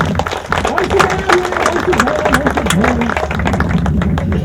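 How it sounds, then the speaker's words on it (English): An audience at a golf teaching summit claps in a dense, continuous round of applause, mixed with a voice and crowd murmur. "let's give you a round of applause"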